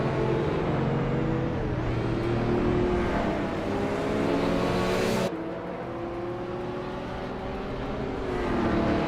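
Race cars in a racing video game launch off the starting line, including a 2001 Mercedes-Benz CLK55 AMG, with loud layered engine roars rising in pitch through gear changes, a sharp cut midway, then continued revving.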